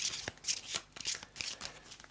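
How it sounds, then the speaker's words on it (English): Playing cards riffle-shuffled during a tabletop board game setup, close and crisp, in a few quick bursts of flapping and ruffling with short pauses between. "So we'll have to shuffle again."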